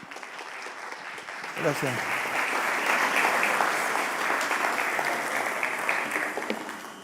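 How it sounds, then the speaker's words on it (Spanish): Loud audience applause welcomes a church pastor and music company founder onto the stage at an event, a sustained broadband roar of clapping lasting several seconds, with a brief spoken thank-you near the start. "lo recibimos con un fuerte aplauso"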